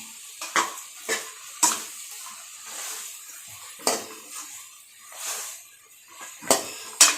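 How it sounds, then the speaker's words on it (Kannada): Sprouted horse gram is pan-roasted with salt, with a spoon repeatedly clinking and scraping against the pan in short, separate strokes over a faint dry rustle. "ಇದನ್ನು ಚೆನ್ನಾಗಿ ಫ್ರೈ ಮಾಡ್ಕೊಂಡು ಸುಟ್ಕೊಂಡು ಈ ಕಾಳುಗಳನ್ನು ಸ್ವಲ್ಪ ಉಪ್ಪು ಹಾಕೊಳ್ಳೋಣ"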